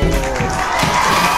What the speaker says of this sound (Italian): Fate un grandissimo applauso per Michelasso!